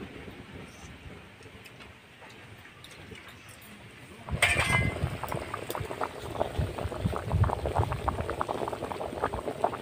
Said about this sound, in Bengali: ঝোলটা খুব ভালোভাবে ফুটে গেছে